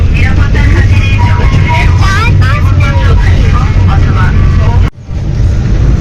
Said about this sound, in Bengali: ট্রেন ঢুকতেছে